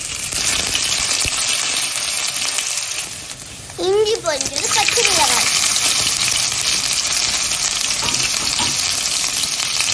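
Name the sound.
black pepper sizzling as it fries in hot oil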